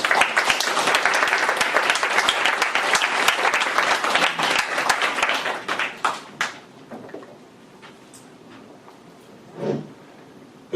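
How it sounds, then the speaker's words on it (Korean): Students and citizens at a Thursday philosophy colloquium give a warm round of applause as a professor is welcomed, a dense, loud clatter of many hands that thins to scattered claps and fades, with a brief voice near the end. "우리 학생 여러분 포함해서 시민 여러분 큰 박수 부탁드립니다."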